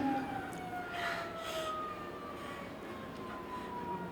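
An ambulance siren wails with a slow, gliding pitch, sounding somewhat distant over the low rumble of a moving vehicle.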